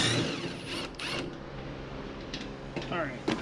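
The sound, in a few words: ratchet wrench removing shroud bolts on John Deere Z445 mower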